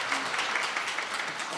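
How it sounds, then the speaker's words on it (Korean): Brief, steady applause from a church congregation during a New Year's Sunday service in Busan, a dense even wash of clapping filling the short moment. "박수 드리겠습니다."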